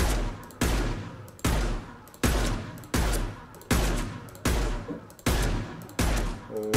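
Pistol shots ring out in Mass Effect 2: about eight sharp, evenly spaced reports, each with a fading tail, fired at a steady rhythm close up and alone.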